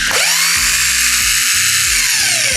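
Xenon HD500 SDS Plus 20 mm electric rotary hammer drill running in drill-only mode, its piston pumping back and forth with a loud, close, continuous high whine and low pulsing thumps.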